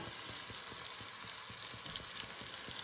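Meat for a Joe's Special frying in a pan, a dense loud sizzle with a quick steady rhythm of stirring scrapes, close and without speech.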